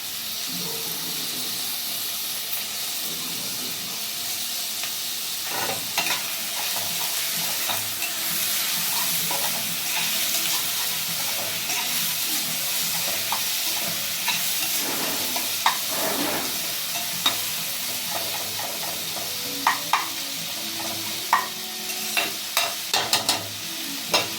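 Chopped tomatoes stir-fry in a pan for kalan biryani, a long steady sizzle and hiss broken by frequent spoon scrapes and clicks against the pan, with sharper taps clustering near the end.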